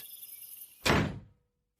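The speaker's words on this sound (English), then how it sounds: "Stop slamming doors." A wooden door is slammed shut by the wind, giving one loud, close thud after a stretch of quiet background, with a brief rumbling decay.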